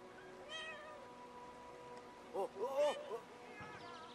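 A cat carried by a character in the video game Brothers: A Tale of Two Sons meows several times, with a protesting wail in the middle, heard over soft game ambience along with some talk.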